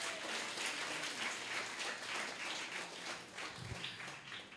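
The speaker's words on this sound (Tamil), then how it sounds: "இன்னொரு நேரம் நல்லா கைத்தட்டிருங்க பார்க்கலாம்." A church congregation clapping together in a sustained, even patter of many hands, fairly soft and diffuse, with no talking over it.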